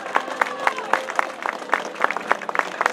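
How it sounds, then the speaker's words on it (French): Crowd applause at a 2014 Coupe de France cyclo-cross race in Sisteron, with rhythmic outdoor clapping heard close and steady throughout, mixed with faint voices and crowd murmur. "On peut l'applaudir bien fort, Francis Mouret."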